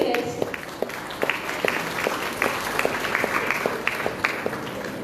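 An audience at a nursing students' association celebration in Bambolim, Goa, applauds the chief guest with sustained clapping from a seated crowd, moderately loud and continuous with individual sharp claps standing out.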